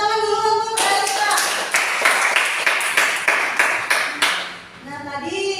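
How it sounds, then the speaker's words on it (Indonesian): A classroom of students breaks into lively, rapid clapping for a classmate, loud and close for several seconds before dying away, with voices heard before and after. "tepuk tangan dulu untuk Rizka"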